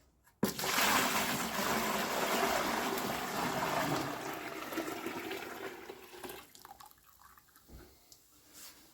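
Fermented pineapple watermelon mash is poured from one bucket into another, making a sustained rushing, splashing pour that tapers off into drips and thinner trickles near the end.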